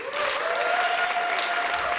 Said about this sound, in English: Let's give another welcoming round of applause